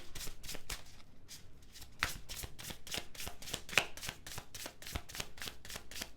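Tarot cards shuffled by hand, a fast rhythmic series of crisp flicks and riffles, close and fairly quiet, with no talking over them.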